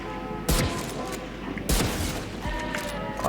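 Two loud, sharp Marshal sniper rifle shots ring out about a second apart in the video game Valorant, each with a short echoing tail over steady in-game ambience.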